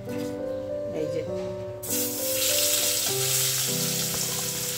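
Pabda fish dropped into hot oil in a pan, an abrupt loud burst of sizzling and spattering that keeps hissing, with a steady tonal melody or voice running underneath.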